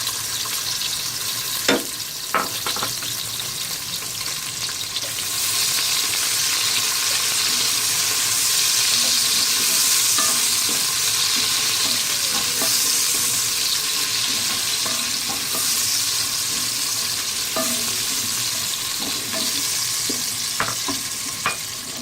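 About half a cup of oil sizzles steadily as two chopped onions fry in a pan for a white mutton biryani, a constant hiss with occasional stirring clinks and scrapes.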